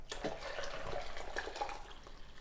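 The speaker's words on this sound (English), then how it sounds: "Dissolve the sugar into the water if you're making a syrup and add it to the rest of the hot water." Hot water mixed with dissolved sugar syrup being poured for canning mandarins, a soft, close splashing trickle that runs steadily for a couple of seconds with no talking.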